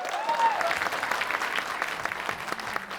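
Audience at a Bhojpuri film awards show claps steadily for about three seconds, a soft, moderately distant patter with a brief high tone near the start.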